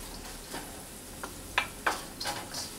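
Carrots and noodles are stir-fried in a wok, with a low steady sizzle. Irregular spatula scrapes and clicks grow louder toward the end, with no voices.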